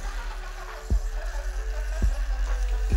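An Axial Wraith RC crawler with a brushed motor crawling slowly, giving a low steady hum with soft periodic clicks from the drivetrain, close and fairly quiet.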